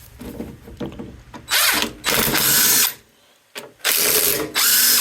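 Tool on 5/16 bolts of a Briggs and Stratton lawn mower during carburetor repair, loud buzzing ratchet-like bursts of about a second each, separated by short pauses, close up with no talking.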